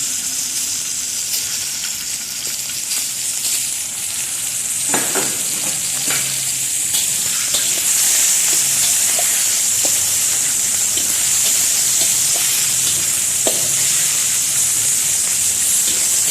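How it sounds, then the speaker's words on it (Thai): Pork belly sizzles and spatters steadily in hot oil, with occasional scrapes and stirring clatter from a pan, close and continuous. "เราจะเอาหมูสามชั้นนะคะ ใส่ลงลงไปผัดก่อนนะคะ"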